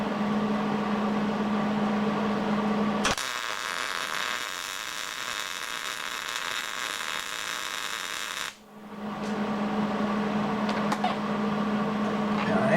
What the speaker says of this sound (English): let's weld this beast in